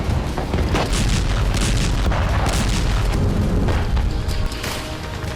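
Israeli bombing in Gaza sounds as a dense, continuous rumble of heavy booms and blasts, loud and thick throughout, with rough bursts rising and falling.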